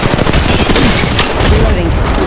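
Gunfire in the mobile video game Apex Legends Mobile sounds as a dense, loud burst of rapid automatic shots layered with booms, continuous across the moment.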